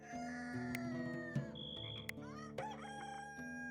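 A hen in the medieval colony game Going Medieval makes clucking, crowing-like fowl calls over soft layered game music and chimes, faint and intermittent.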